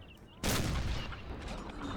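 Artillery fires in Napoleon: Total War, a sudden loud boom about halfway through that rolls into a long, dense rumble of cannon and musket fire, with faint voices in the background.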